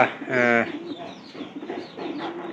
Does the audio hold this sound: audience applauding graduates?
no